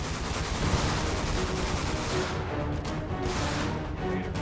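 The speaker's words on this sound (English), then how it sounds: "Shots fired at 311. I have three individuals at the top of the tower shooting at me." Criminals fire at police from the top of a tower in GTA 5, rapid bursts of loud overlapping gunshots rattling continuously and close, with no talk.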